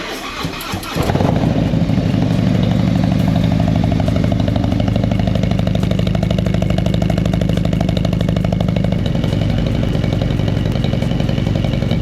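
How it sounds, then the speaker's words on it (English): A cammed 117 cubic inch CVO motorcycle engine starts up and runs steadily, a loud, continuous close-up rumble with a fast throbbing pulse that holds evenly for about eleven seconds. "The motor is just running. It sounds so much quieter, like internally"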